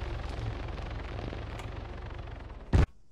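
Rumbling background of battle noise in the Arma 3 video game as a helicopter comes under enemy fire, ending in a single loud, sharp crash or blast before near silence.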